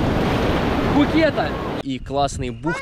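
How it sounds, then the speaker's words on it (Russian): Ocean surf breaks and washes onto a beach on Phuket in Thailand, a steady roar that runs under a man's speech and then drops back as his voice takes over. "Офигенные волны."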